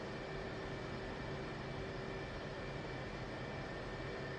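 An F/A-18 jet engine idles before taxi in the DCS flight simulator, a steady, even whine with a constant hum and broadband rush, continuous and unchanging throughout, with no talk.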